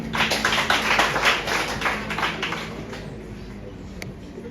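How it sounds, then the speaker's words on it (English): A crowd at a school science and mathematics quiz final applauds steadily, the clapping gradually thinning and fading out toward the end. "Let's clap for them."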